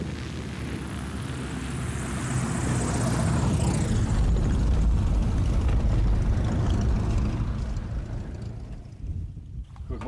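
A light propeller aircraft flying an aerial patrol over forested mountain slopes, its engine drone steady and loud, swelling slightly mid-way then easing, with wind buffeting the microphone and no talking.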